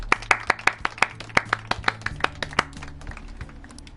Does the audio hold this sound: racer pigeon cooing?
no